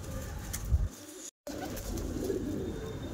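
Soft, low cooing from a male and female Saharanpuri kalanch pigeon pair in short bursts close by, with a brief dropout partway through and light background noise.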